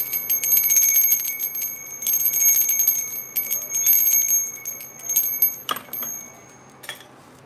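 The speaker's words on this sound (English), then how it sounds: "Did you hear that bell? You like the bell?" A bell struck to clear energy during a tarot reading gives bright, sustained metallic rings in a few repeated bursts, each shimmering tone decaying before the next, close and fairly loud with no voices over it.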